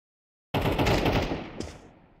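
Rapid automatic gunfire in Counter-Strike 2 on the Casino map erupts after silence, a dense loud burst of shots that tails off quickly.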